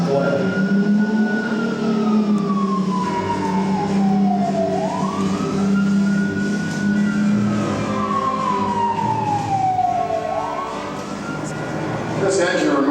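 A fire engine siren on the Backdraft theme park ride wails in long, slow rising and falling sweeps over a steady mechanical rumble, loud and continuous throughout.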